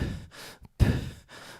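A voice imitates the labored gasping breaths of a struggling swimmer, several sharp inhales and exhales in an uneven rhythm, close and alone.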